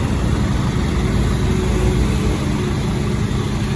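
A Hyundai Porter II double cab dropside idles on its D4CB diesel engine in a showroom, giving a steady, close, low rumble that runs unchanged and unbroken throughout.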